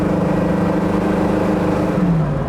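A 1970 Ford Mustang Mach 1 engine runs with a steady low rumble while driving at about 25 to 30 mph, the pitch easing down slightly toward the end.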